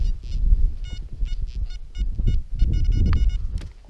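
A metal detector gives short, high-pitched electronic beeping tones in quick bursts over low rustling and scraping, the signal rising and falling several times.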